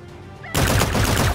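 Gunfire in the futuristic shooter Call of Duty: Infinite Warfare during a Search and Destroy match, a sudden loud burst of rapid shots that starts after a quiet moment and keeps going close up.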